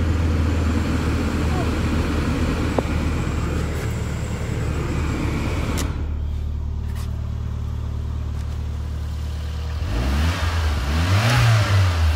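A 1992 Toyota Starlet GT Turbo drives with a loud, steady engine drone that eases off midway, then rises again as the revs climb near the end.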